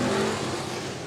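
Stock cars roaring off the start at Raceway Park, a dense engine drone with a sustained low tone that eases slightly toward the end, no talk over it.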